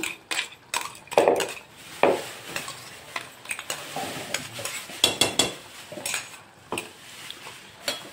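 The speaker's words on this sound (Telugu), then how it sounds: "ఇప్పుడు దీన్ని ఒకసారి ఫుల్గా కలుపుకుందాం" Eggplant curry with onion, tomato and green chilli being stirred in a pan, with repeated scraping and clinking of a spoon against metal in an irregular rhythm over a light sizzle, close and fairly loud.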